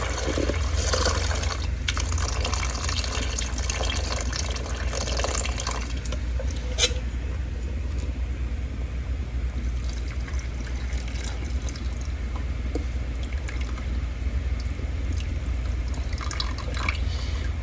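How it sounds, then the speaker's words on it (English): Bean cooking liquid poured into a pot of black beans for Haitian rice, a steady close liquid splash and trickle throughout with a few drips. "So now I'm going to add the liquid. This is the liquid that our beans cooked in."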